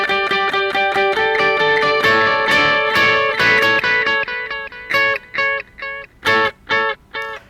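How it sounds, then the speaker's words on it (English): An electric guitar plays a line through a digital mod delay. Repeated chiming notes ring with bouncy echoing repeats, loud and close, and end in short, evenly spaced staccato plucks with no talking. "So it's a digital mod delay."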